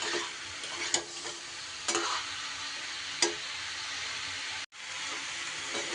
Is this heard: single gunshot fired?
no